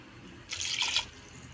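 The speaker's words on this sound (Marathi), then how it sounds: "मी याच्यात पाणी टाकून घेत आहे" A brief gush of water pours into a pressure cooker holding young jackfruit, close and fairly quiet, lasting about half a second against a faint background.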